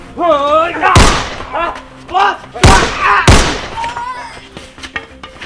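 Three sharp, loud gunshot bangs burst out at irregular intervals in a tense dramatic scene, cutting through agitated voices talking over them.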